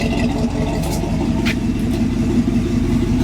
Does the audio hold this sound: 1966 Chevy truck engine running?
yes